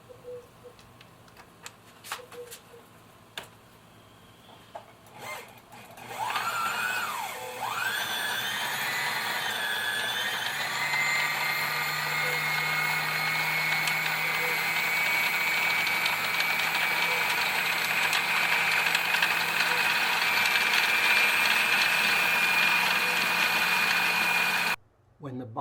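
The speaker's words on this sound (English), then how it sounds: "when you apply power, it will start winding the thread onto the bobbin" A Brother XL-3750 sewing machine winds thread onto its bobbin, first with a few clicks and taps, then a steady rising motor whir that runs for a long stretch and cuts off abruptly near the end.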